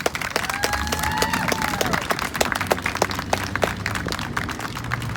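A crowd at an outdoor George Floyd march rally in Carbondale, Illinois applauds with steady scattered clapping, joined by a brief tonal whistle and light crowd murmur in the background.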